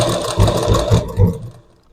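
A sewing machine stitches the neckline of a blouse, a loud close whirring with rhythmic pulses of the needle that slows and stops within two seconds.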